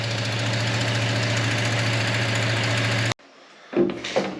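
The engine of a 1971 Datsun 521 pickup runs loud and close with a steady, even idle for about three seconds, then cuts off abruptly, leaving faint, scattered knocks and clatter.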